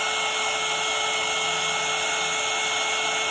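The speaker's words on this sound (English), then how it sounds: "we just take the heat embosser here" Heat embossing gun blowing hot air onto embossing powder for handmade wedding name cards, a constant loud whirring fan hiss with a steady high whine, continuous throughout.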